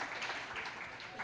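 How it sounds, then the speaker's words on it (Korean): A church congregation applauds in blessing during a service, a brief, soft, steady patter of many hands clapping with no voices over it. "축복의 박수 보내주십시오"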